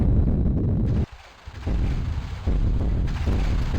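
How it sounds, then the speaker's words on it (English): Heavy booming blasts in Tomb Raider, dense and loud, broken by a brief quiet gap before the rumbling explosions resume. "It's a lot of explosion noises and no explosions."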